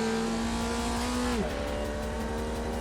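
Formula Vee race car in the iRacing sim braking hard downhill, its steady engine note dropping sharply as it downshifts to second gear, then a rough low idle-like rumble continues, loud and close with no talk.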